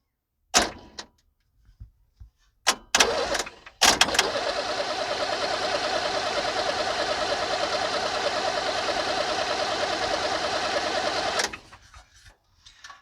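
A 1978 International Scout II diesel engine runs with a steady, rapid mechanical clatter for about seven seconds, after a few sharp clicks and knocks, then cuts off and quiet clicks follow.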